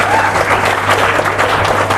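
Crowd applause at a mushaira, an Urdu poetry gathering in Karnataka, heard as a loud continuous patter of many hands clapping together over a low, steady hum from the hall.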